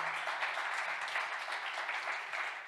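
A congregation at a Spanish-language church service claps steadily and fairly quietly, a dense, continuous patter of many hands with no voices over it.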